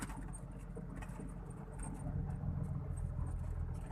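A dump truck engine pulling along in third gear on a football field in Thailand, a steady low rumbling drone that swells slightly midway, with faint rattling over the top and no talk.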